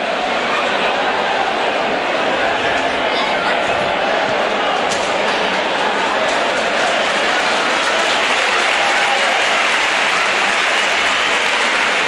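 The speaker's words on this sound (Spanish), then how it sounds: "Ahora los aplausos" Crowd applause in an indoor futsal arena, a dense continuous wash of clapping that holds steady throughout, with faint commentary voices beneath.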